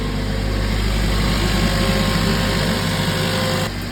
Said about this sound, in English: The cold start just chilling out now.